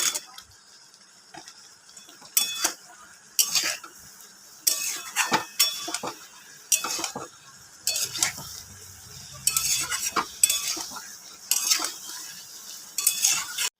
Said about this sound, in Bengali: এবার মশলাটা একসাথে কষিয়ে নেব।